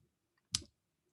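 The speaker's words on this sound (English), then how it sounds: "I just copied with my keyboard shortcut" A single sharp keyboard click from a shortcut key press, close and crisp against near silence.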